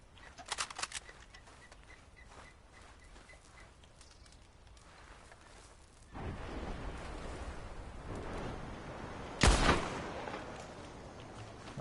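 Gunfire in a video game: one sharp, loud shot stands out near the end above a steady background wash, with fainter cracks and bird-like calls earlier on.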